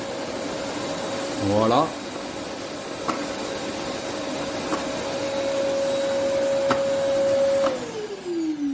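A Rowenta Compact Power XXL canister vacuum cleaner switches on with a rising whine, then runs with a steady motor drone and hiss before winding down, while a voice speaks briefly.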